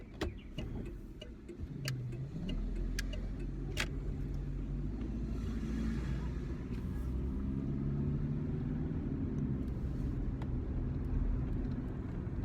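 A car drives along a residential block, heard from inside the cabin as a low, steady road rumble and engine hum with a few faint clicks and ticks over it.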